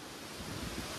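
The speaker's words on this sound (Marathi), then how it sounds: "वारा वादळ." Storm wind roars in a steady, dense rush during heavy rain, buffeting the microphone with a constant, loud wash and no voices.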